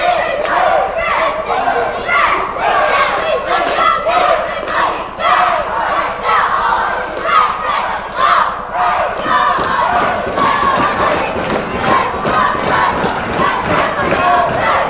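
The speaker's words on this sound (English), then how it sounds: "Pretty good crowd." Dense crowd noise fills a high school boys basketball gym through the whole stretch, steady cheering and shouting with thumps and squeaks mixed in, loud and close, with a commentator talking over it.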